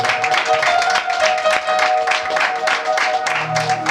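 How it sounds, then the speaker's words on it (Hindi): A church congregation clapping loudly, a dense, steady patter of many hands close by filling the room, with a voice briefly heard over it. "जोर से ताली परमेश्वर की महिमा करें।"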